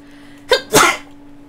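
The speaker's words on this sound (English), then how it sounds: "I need to sneeze." A single close, loud human sneeze: a short sharp intake burst followed by a stronger explosive release, then quiet room tone.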